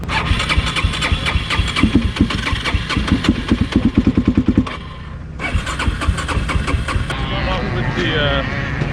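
A motorcycle raced in endurance events is kicked over and fires up, its engine sputtering in rhythmic bursts and then idling roughly, close by, with a voice talking over it.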